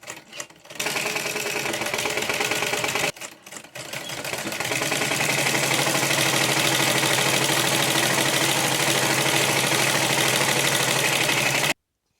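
An electric sewing machine stitching the cuff of a Patiala pajama, starting with a few short bursts and then running in a long, loud, steady whir before stopping abruptly.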